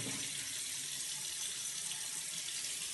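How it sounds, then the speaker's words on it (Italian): Tap water runs steadily from a faucet into a sink while a face is rinsed with plain water, a continuous bright hiss with a faint low rumble, close and unbroken, with no talking. "quando vi lavate la faccia non ve la dovete lavare col sapone, in questo caso è sufficiente solamente con l'acqua"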